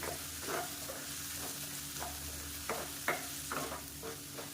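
A spoon stirs and scrapes black urad dal mixture in a hot pan. Several distinct scraping strokes come at irregular intervals over a soft continuous sizzle, close up, with no voices.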